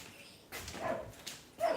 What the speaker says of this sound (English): My dogs are going bananas.